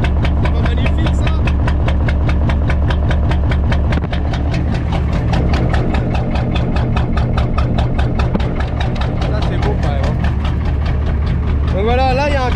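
A truck engine idles loudly and close, a steady low rumble with a fast even pulse, and a whining hiss rises near the end.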